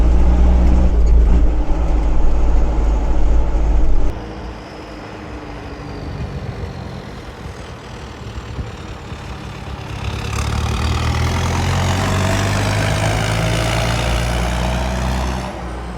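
A vintage tractor engine drives up the road at a farm machinery dealer, a heavy, loud engine rumbling steadily up close, dipping in level briefly, then rising again with a rough, droning note as it pulls away.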